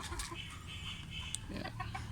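A rooster or chicken clucking softly at a distance, a few short throaty calls over a low background hum, faint and brief.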